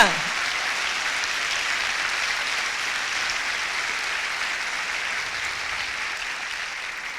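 Sustained applause from a church congregation during a sermon, a steady dense wash of clapping that holds evenly for several seconds and tapers slightly at the end.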